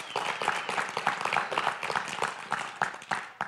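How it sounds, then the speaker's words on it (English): A church congregation at an evening service claps hands together in a loud, rhythmic beat, with sharp, regular claps close by and faint voices mixed in. "let's all clap our hands and praise the Lord"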